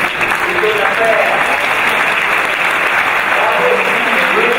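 Graduates at a 2014 EMBA graduation ceremony give their families sustained, dense applause that fills a hall loudly and evenly, with faint voices underneath.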